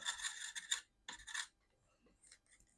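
A small fiberglass pen scrubs lightly at the worn battery contacts of a 1981 Astro Wars tabletop game, giving two short raspy scratching bursts close up, then fainter scattered scrapes.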